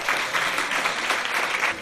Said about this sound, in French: je vous demanderai d'applaudir tous les organisateurs de Pint of Science